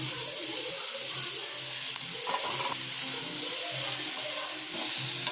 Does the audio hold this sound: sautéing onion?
yes